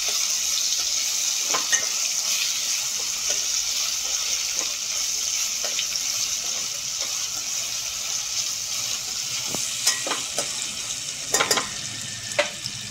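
Ginger garlic paste frying in a pan with a steady, continuous sizzle and occasional light scrapes of a stirring spoon, no voices.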